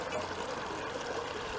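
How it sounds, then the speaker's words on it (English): Small forest river with a little waterfall, a steady splashing, trickling flow of water heard close and moderately loud with no talking. "There's a little waterfall even."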